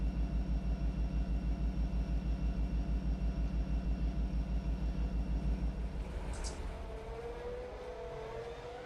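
Diesel locomotive engines idle in a train simulator game with a deep, pulsing throb. The beat steadies and then shifts pitch near the end while a brief higher tone rises, and no one speaks.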